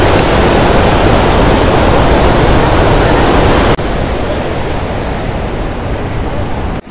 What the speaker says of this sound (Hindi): यहाँ से ये झरना निकल रहा है इस तरह से